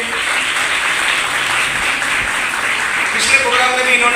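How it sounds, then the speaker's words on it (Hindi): An audience at a beauty parlour training camp event in India claps in a steady, dense round of applause that fills the room. A voice speaks faintly under it. "जोरदार तालियां होनी चाहिए"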